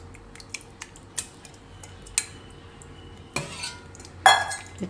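A spoon stirs beetroot raita of curd, green chilli, salt and coriander in a bowl, giving scattered sharp clinks and scrapes against the dish over a quiet background, with a louder clatter near the end.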